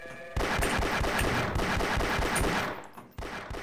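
Rapid automatic gunfire from a weapon in Half-Life rattles loud and close in dense bursts, with a short gap near the end before the shooting resumes.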